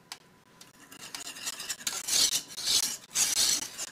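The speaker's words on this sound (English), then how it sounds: "the reason that you want to keep stirring is so that we don't get anything burnt to the bottom" Lemon filling stirred in a pot on the stove, with quiet scraping and swishing strokes that grow louder in repeated bursts toward the end.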